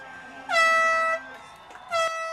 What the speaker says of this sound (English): It's going to be a lot of air horn right now.